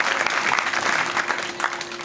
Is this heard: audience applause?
yes